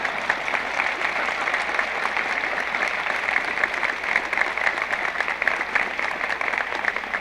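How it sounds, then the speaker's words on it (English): A crowd applauds at a 1968 Robert F. Kennedy campaign rally in West Virginia, a steady, even roar of clapping that holds without a break, heard somewhat distant on an old recording. "don't let me stop you from applauding anytime."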